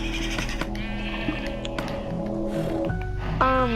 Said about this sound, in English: Hey, I got a gray sheep.